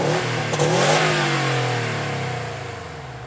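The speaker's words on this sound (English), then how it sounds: "let's go ahead and take a listen to how this engine sounds." A 2020 Subaru STI S209 engine revs hard and loud up close, the pitch sweeping up then gradually falling as the revs drop off, with no talking.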